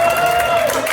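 Live comedy game show audience at The Rockwell in Somerville clapping and cheering for an eliminated contestant, a short dense burst of crowd applause.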